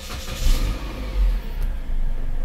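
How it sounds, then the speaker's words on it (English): A car engine is started before the air conditioning is turned up to full. The clip is short and holds low, rumbling bursts as the engine cranks and catches, at moderate loudness with no talking. "Okay, so we will start the engine."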